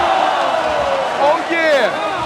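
A basketball crowd chants for Team Serbia during a 3x3 World Championships game, a loud arena roar with rising and falling voices, under a commentator talking over it.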